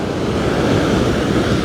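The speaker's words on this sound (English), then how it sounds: "the sound of the ocean waves take up most of the audio while we're here" Ocean waves break at a beach in Tavira, filling the air with a loud, continuous rushing surf roar and wind noise. No voices are heard.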